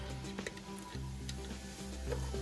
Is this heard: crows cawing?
no